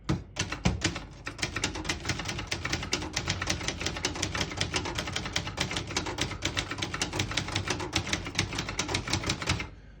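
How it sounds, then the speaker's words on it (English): A 1966 Brother Webster XL-500 portable manual typewriter clacks in a rapid, steady stream of sharp keystrikes, close and crisp, with no voices. "Beautiful typing machine."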